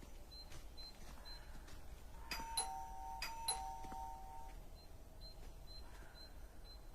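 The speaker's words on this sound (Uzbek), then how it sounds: "Qo'ng'iroqni chalchi." A doorbell rings twice in quick succession, a clear electronic chime standing out over faint background noise and a few small bird-like chirps.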